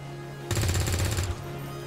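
Burst of automatic gunfire from the XCOM 2 video game, a single rapid rattling volley lasting under a second over a steady low game hum, fairly quiet.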